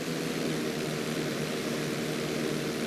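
A propeller airplane in GTA V flies an inside loop, its steady engine drone loud and continuous throughout, with no voices.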